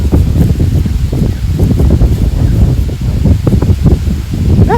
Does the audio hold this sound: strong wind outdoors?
yes